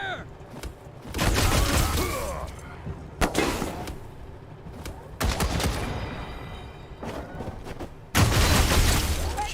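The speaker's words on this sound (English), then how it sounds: "Suppressing fire." Bursts of automatic gunfire and booms from combat in the video game Wasteland 3 arrive in several loud volleys separated by quieter stretches, with a game voice speaking in between.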